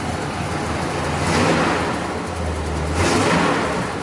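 Dodge 300 Club Cab dually, a classic patina one-ton truck, idling close by with a steady low engine rumble that swells twice in slow surges, without talking.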